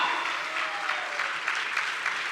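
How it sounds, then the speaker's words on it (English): Dense audience applause fills a hall, a continuous wash of many hands with light cheering mixed in, steady and fairly loud throughout. "Can we all cheer for her?"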